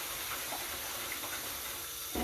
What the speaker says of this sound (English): I am running dishwater because I need this stick blender